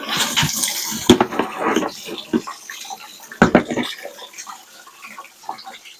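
Water splashing and pouring from the drain petcock valve of an Edsel's radiator, messy bursts with two sharp splattering surges, nearby and alone without talk.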